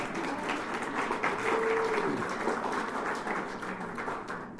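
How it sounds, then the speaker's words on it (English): Sustained audience applause fills a gala fundraising event, a dense, steady wash of many hands clapping at even loudness for the whole stretch with no speech over it. "That's worth applauding."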